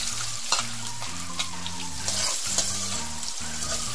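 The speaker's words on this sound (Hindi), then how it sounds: "अब हमारा तेल गरम हो चुका है, अब हम उसमें जीरा डालेंगे। अब हमारा जीरा क्रैकर हो चुका है।" Cumin seeds sizzle and crackle in hot oil for shev bhaji, a steady dense frying hiss with scattered pops and some utensil clinks. A low tonal hum runs underneath, and no one speaks.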